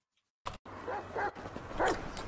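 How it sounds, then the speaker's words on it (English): A dog gives short yips and whimpering barks, close by, in a few bursts over outdoor background noise. "Oh, dog."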